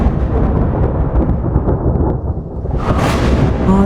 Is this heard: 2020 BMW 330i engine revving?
no